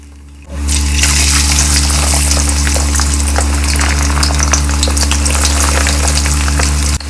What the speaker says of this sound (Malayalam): വെളുത്തുള്ളി വറുത്ത് പോരും.